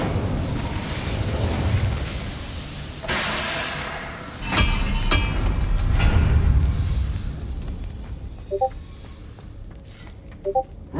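Incendio fire spell in Hogwarts Legacy, a sharp whooshing burst followed by a fiery rumble and a few crackling pops, with quieter chiming blips near the end.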